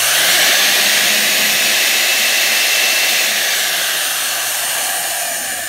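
A Black & Decker 1/2-inch heavy-duty drill motor, mounted in a drill stand, runs steadily with a loud, continuous whirring hum that fades slightly toward the end, with no talk over it.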